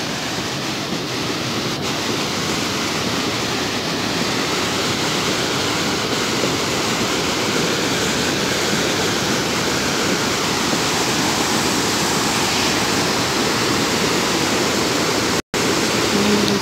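Water rushes steadily at Blue Lake in Giresun, a loud, continuous broadband roar like a cascade or fast stream, close by and unbroken apart from one brief dropout near the end.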